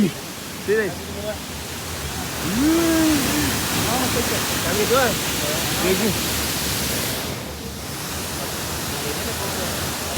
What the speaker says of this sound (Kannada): ಈಗ ದೊಡ್ಡ ಫಾಲ್ಸ್ ಐತಿ